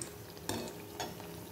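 Beguni, battered eggplant fritters, frying in a home kitchen: a steady soft sizzle with a couple of brief scraping stirs, close by and quiet, no talking.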